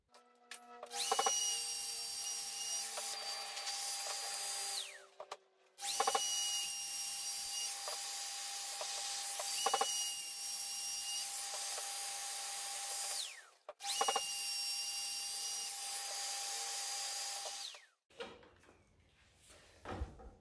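Router cutter cutting a long mitre in thick wood, three long loud bursts of high whining machining separated by short pauses, close by, with no talk.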